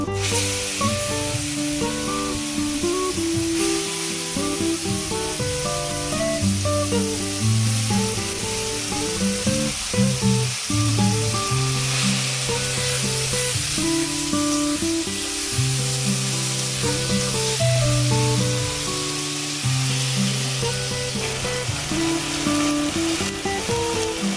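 Taro greens frying in hot oil in a pan, a loud, steady sizzle and spitting hiss that runs without a break, with occasional stirring clatter and no talk.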